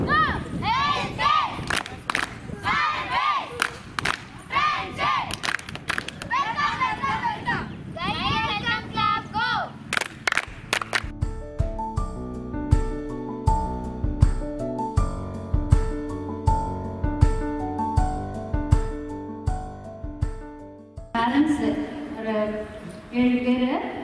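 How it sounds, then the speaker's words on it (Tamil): Schoolchildren lined up on both sides at a school welcome give loud, excited shouting cheers and clapping, which then give way to rhythmic music for the rest of the stretch. "இருபுறமும் நின்று மாணவ மாணவிகள் பலத்த கரகோஷம் எழுப்பி தடபுடலாக வரவேற்பு அளித்தனர்."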